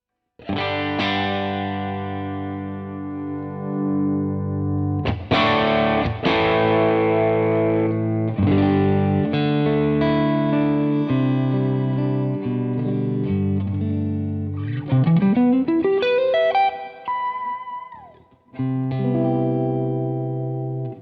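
An electric guitar plays through a BadCat Cub amplifier with the input gain turned up, thick distorted chords and notes ringing out, ending with a sliding bend and sustained tone.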